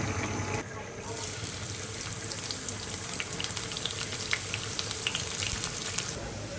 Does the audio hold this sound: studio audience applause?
no